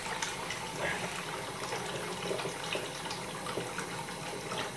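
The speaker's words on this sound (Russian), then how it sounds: "Бодро полилось" Water pours steadily from a household tap, a continuous bright hiss and splash with no pauses, fairly close and moderately loud, with no talking over it.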